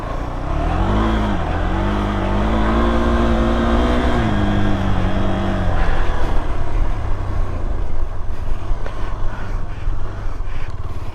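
A car drifting on a 1.5 km drift track during a track-opening event, its engine revving loudly with rising and falling pitch, then a rough, roaring slide with tyre noise as the throttle is held.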